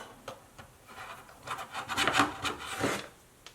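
Wrenches tightening lock nuts on the A-arms of a Losi 5ive-T RC car, a series of quiet rasping, ratcheting scrapes and rubs that build and fade, close up and alone.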